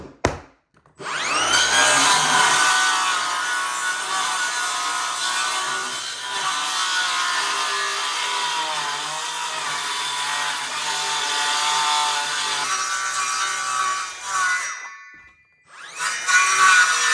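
A power saw cuts through wooden flooring in one long, loud, steady whine lasting about fourteen seconds, close by, then stops before a brief restart.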